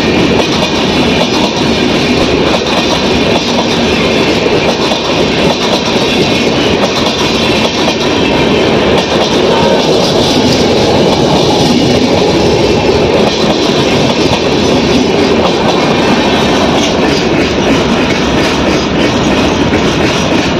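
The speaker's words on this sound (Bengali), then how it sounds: "অনেক লং ডিস্টেন্সের ট্রেন" The long-distance Vivek Express from Kanyakumari to Dibrugarh runs on the rails with a loud, continuous rumble and a steady clickety-clack of wagon wheels throughout, and no voices.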